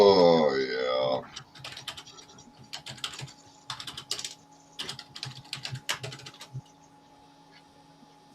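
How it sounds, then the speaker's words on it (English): After a brief voice, a loud computer keyboard clatters in bursts of close, uneven keystrokes, fading to quiet near the end. "Those are loud keys, Steve."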